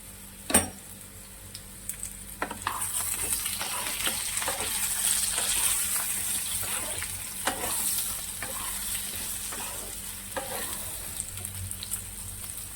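Ridge gourd and potato pieces frying in a pan, a continuous bright sizzle with intermittent clacks and scrapes as the vegetables are stirred, one sharp knock near the start, no voices.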